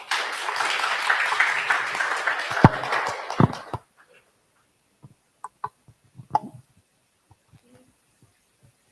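An audience applauds after a talk at an AI in healthcare event. Dense clapping runs for about four seconds, then stops abruptly, leaving near silence broken by a few faint knocks and shuffles.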